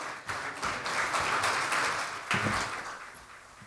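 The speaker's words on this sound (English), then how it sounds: "Can I have a huge round of applause for CA Balram?" A hall audience at an investing seminar applauds a speaker as he is welcomed on stage, a moderate, steady burst of clapping that swells, dips briefly, then rises again and tapers off.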